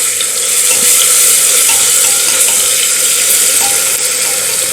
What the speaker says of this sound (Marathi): कोथिंबीर लसणाची पेस्ट थोडीशी परतून घेऊया